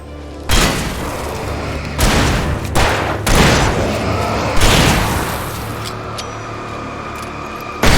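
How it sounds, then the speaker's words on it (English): A flashbang detonating in Alan Wake Remastered, heard as a sharp loud boom followed by several more heavy blasts and thuds amid dense ringing noise, close and overwhelming throughout. "Gotta love flashbangs."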